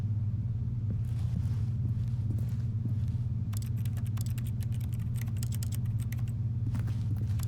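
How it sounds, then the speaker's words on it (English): Keyboard typing in The Stanley Parable, heard as scattered soft key clicks that grow denser and more rapid in the second half, over a steady low rumbling background hum. "That's kind of cool, it makes a keyboard sound."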